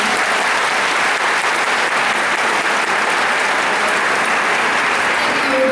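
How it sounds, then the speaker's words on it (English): Sustained, dense clapping from a large audience at a Plainview Old Bethpage John F. Kennedy High School class of 2014 graduation, loud and steady throughout with no talk over it, a faint whistle near the end. "See, Mom, I told you they'd clap for me."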